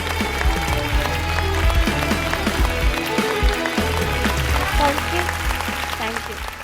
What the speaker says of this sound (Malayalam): പ്ലീസ് എല്ലാവരും പാർവതിക്കൊരു കയ്യടി